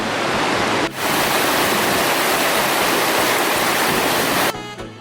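Loud, continuous rushing water from a river in Iao Valley, Maui, fills the clip, a dense steady roar like a fast-flowing river or small waterfall, with brief handling noises.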